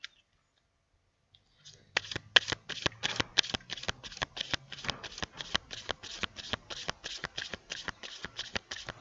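Tarot cards are riffled and shuffled after a quiet start, a run of sharp, evenly spaced flicking bursts, close and fairly soft, with no talk.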